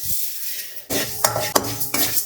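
Dry moong dal being roasted and stirred in a pan, with a metal spoon scraping and clinking against the pan in a series of close, sharp strokes after a quiet opening.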